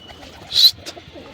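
A pigeon gives a single brief coo close by, with a second softer note just after, standing out over a quiet background.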